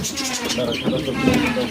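A male fancy pigeon cooing close by, soft throaty bubbling calls repeating over a steady background murmur.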